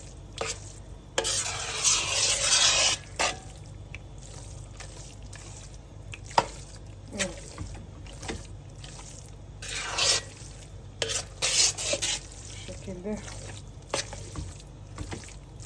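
Tomato paste with oil and salt being fried and stirred in a pot, giving soft sizzling bursts and intermittent scraping strokes at moderate volume, fairly quiet between stirs.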